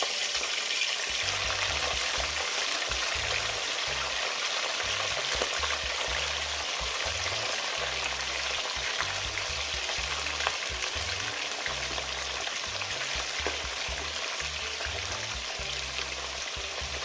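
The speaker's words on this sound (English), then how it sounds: "Now we are deep frying our chicken wings." Chicken wings deep frying in hot oil for a spicy recipe, a steady dense sizzle and crackle running continuously and close up, with no talking.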